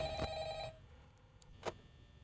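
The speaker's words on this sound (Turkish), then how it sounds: "Telefonu nasıl kapatabiliriz ya? Kapat şu telefonu." An indoor telephone rings during a gaming session with a steady tonal ring for under a second, then fades into quiet room noise broken by a couple of faint clicks.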